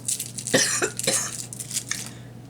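A person coughs several times up close, harsh rough bursts in quick succession, followed by softer throaty coughs.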